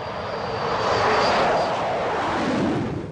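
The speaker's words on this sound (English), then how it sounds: "a classic aircraft flying into history" A classic RAF workhorse aircraft passes overhead, its engine drone swelling to a loud, steady roar before easing slightly.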